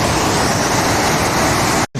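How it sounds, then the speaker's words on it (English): Deception Creek, a mountain stream on a hike, rushes loudly and continuously nearby in a dense, even roar of flowing water that cuts out abruptly at the very end. "This is Deception Creek."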